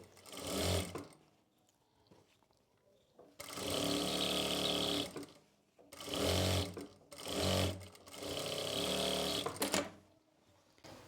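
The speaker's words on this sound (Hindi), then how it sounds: "इसी तरीके से हमें दूसरी बाजू के ऊपर सिलाई लगा लेनी है।" A sewing machine stitches a kurti sleeve in several loud, close bursts of rapid mechanical whirring, separated by short pauses.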